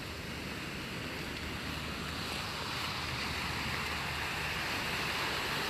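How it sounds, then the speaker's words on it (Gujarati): Sea waves washing onto a rocky shore at Porbandar Chowpatty, a continuous broad rushing surf with wind noise, steady and fairly loud throughout with no distinct breaks and no voices. "અહીંનો દરિયો ખડકાળ છે"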